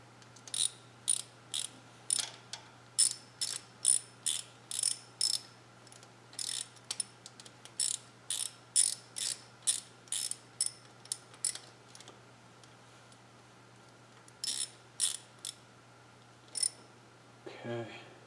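A ratchet wrench cranks down a rocker arm bolt on a GM 3900 LZ9 V6 engine, with steady rapid clicking strokes in bursts, close and fairly quiet over a faint constant hum.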